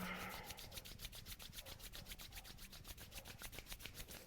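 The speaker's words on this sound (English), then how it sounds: "rub your hands together" Palms rub briskly together in a fast, even back-and-forth rhythm, a soft close swishing that repeats steadily and faintly throughout.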